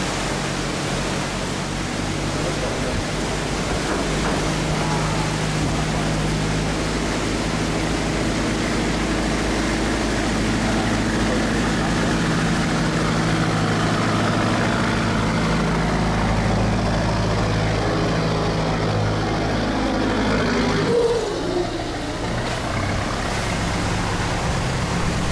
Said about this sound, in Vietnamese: Đây là một chiếc xà lan rất là lớn nha các bạn, chở cũng rất là thẳm.